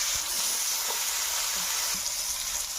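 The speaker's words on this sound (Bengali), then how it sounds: "এখানে এদিক দিয়ে মাছের ভাজি হতে থাক" Spice-coated boroli fish frying in hot oil in a wok, a steady close sizzle and hiss with a few soft pops and no voices.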